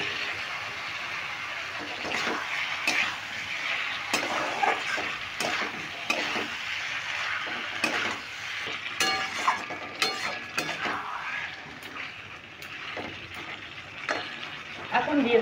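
Fried papaya and potato pieces go into a pan of sizzling masala and are tossed and stirred, with repeated scraping and clanking of a spatula over a busy, uneven frying hiss.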